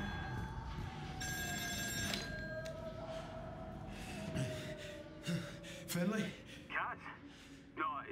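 An old telephone rings in Still Wakes The Deep, a repeating electric bell tone under heavy game ambience and breathy gasps, with short bursts toward the end.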